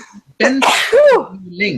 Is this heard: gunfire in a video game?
no